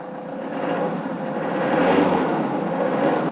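A 2005 Ford Transit with a 2.4 Duratorq diesel engine runs steadily, its hum rising slightly partway through with no knocking, heard on its own without talk.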